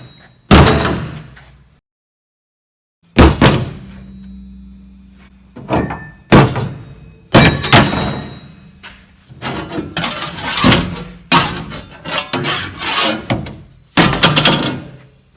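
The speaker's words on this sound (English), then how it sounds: "we want to chuck a few things in here and simulate how we're going to use it" Workshop tools tossed one after another into a painted truck bed tub liner, loud hollow thuds, clatters and scrapes at irregular intervals, with a short silent gap early on and a busier run of impacts toward the end.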